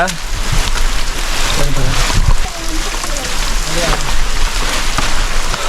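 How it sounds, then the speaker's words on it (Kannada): Steady rush of heavy rain and a stream running on a trekking trail to Bandaje waterfalls, with someone talking over it throughout. "ನೀರು ಹರಿತಾ ಐತೆ"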